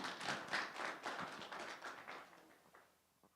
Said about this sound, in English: Round of applause for Darren, thank you.